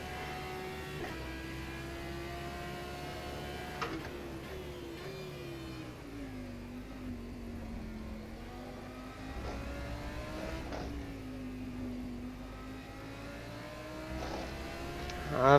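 Audi GT3 race car engine in rFactor 2 in wet conditions, a steady high-pitched drone that rises and dips with gear changes and throttle, punctuated by a few sharp shift clicks, moderately loud throughout.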